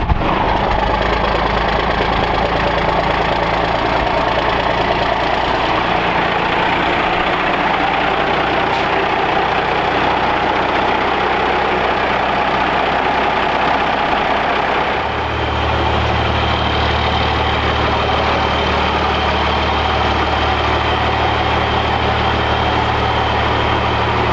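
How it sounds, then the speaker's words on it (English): Diesel truck engine after a cold start on a chilly day, a loud, steady close-up idle with a rough low rumble and knocking, the tone dropping and settling about two thirds of the way through. "everybody loves a cold start, especially a loopy diesel cold start"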